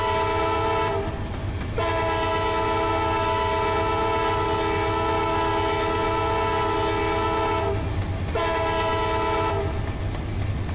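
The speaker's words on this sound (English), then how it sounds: "Hit the horn." Diesel locomotive horn on an Amtrak auto train in Run 8 Train Simulator, sounding in two long, loud blasts with a short gap between them over steady engine rumble, followed by a shorter third blast near the end.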